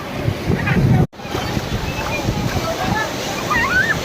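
Ocean waves surge onto Kashid beach, a broad rumbling wash mixed with wind buffeting the microphone, with people's voices and shouts of beachgoers around.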